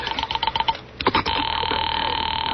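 An old-time radio drama telephone rings in short repeated bursts, then a steady electronic tone takes over and holds to the end. Moderately loud, no talking.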